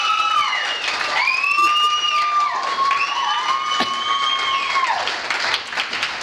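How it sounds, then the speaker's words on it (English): Sustained applause and cheering from an awards-night crowd, with loud whoops and high shouted calls rising over steady clapping for several seconds. "very big round of applause"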